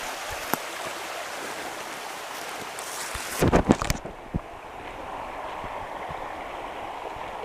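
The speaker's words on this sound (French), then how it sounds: "Alors il y a plein de petits ruisseaux." Small forest streams near the Léguer river at Coat an Noz rush in a continuous broadband wash, broken midway by a brief loud rumbling gust or handling burst.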